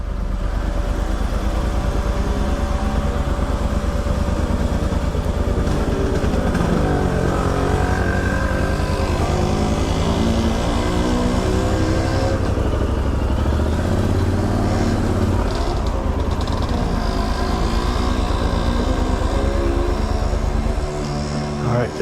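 Adventure motorcycle engine idling and rumbling steadily up close, then shutting off near the end, while being parked beside a KTM at Trapani, Sicily; someone talks briefly over the engine.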